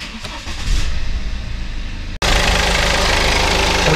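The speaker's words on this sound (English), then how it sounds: "then we will start the car" A BMW 320d diesel engine cranks and fires up after an oil change, then settles into a steady loud idle close by with no talk.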